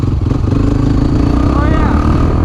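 A 1987 Honda TRX250X quad's engine holds steady at high revs, a loud, continuous buzzing drone close by, with a voice talking over it.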